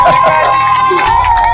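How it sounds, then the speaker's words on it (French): A crowd cheers and whoops loudly and continuously at close range, with mixed voices shouting together as people applaud. "On applaudit pour elle quand même."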